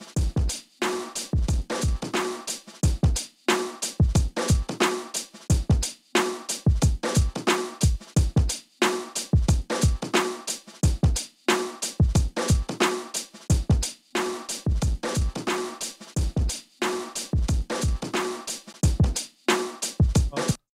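Drum-driven music runs through an Elysia mpressor compressor with parallel compression blended in, giving a punchy, repeating beat of sharp hits and tight pumping dynamics that continues steadily for about twenty seconds with no talking.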